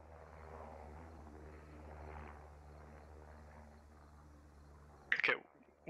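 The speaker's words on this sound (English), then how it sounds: "We did see the helicopter fly over us, and it's flying over us again" A video game helicopter flying overhead during a squad operation, a steady low rotor drone at moderate distance, with faint voices under it and a brief louder burst of noise near the end.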